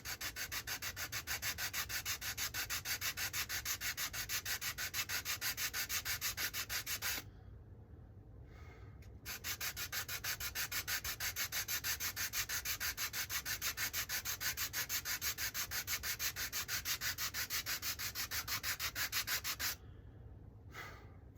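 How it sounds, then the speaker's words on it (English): Rough sandpaper rubbing on wood, a fast rhythmic scratching that runs continuously with two brief pauses, close and fairly quiet with no voices. "Use slightly rougher sandpaper."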